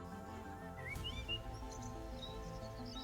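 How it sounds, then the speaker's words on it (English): Birdsong at sunrise outdoors: scattered high chirps and short whistled calls, fairly faint, over a steady low drone. "The land hums with birdsong."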